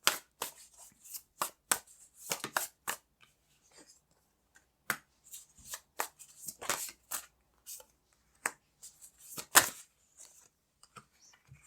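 Tarot cards being shuffled and handled in a quiet room, a run of sharp, close riffles and snaps in uneven bursts with short pauses between them.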